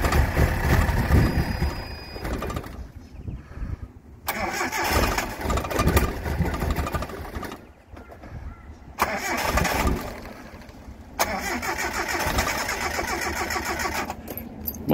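A patina Datsun 720 ute engine cranks repeatedly in bursts separated by short pauses, then catches and runs rough. The sound is close and loud, with someone talking over it at times.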